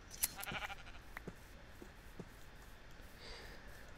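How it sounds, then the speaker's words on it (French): Sheep bleating in the video game Minecraft, a few short bleats from a large flock of wool-covered sheep, fairly faint and spaced apart with quiet gaps between them, no talking. "Là, on a vraiment plein de moutons, on a la tonne de moutons là."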